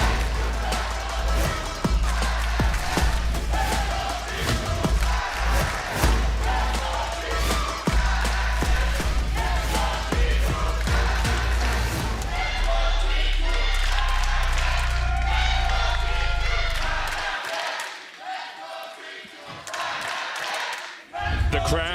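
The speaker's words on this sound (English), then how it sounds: "The crowd taking turns to cheer on their teams" An esports arena crowd cheers for Fnatic and G2 at the LEC Spring 2020 match, a dense, roaring wash with scattered shouts and claps that thins out near the end.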